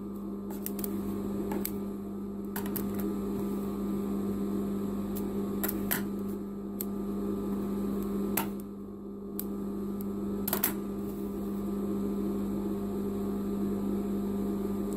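Sewing machine stitching a pocket onto a women's bathrobe, giving a steady mechanical hum with a constant tonal drone and scattered faint clicks, close and continuous.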